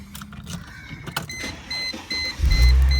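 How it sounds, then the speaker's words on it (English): A 2008 Chrysler Crossfire Limited roadster's V6 cranks with a few whirring, beeping clicks and then fires to life in a loud, deep roar at the end, recorded close by. "that big 6 fires to life"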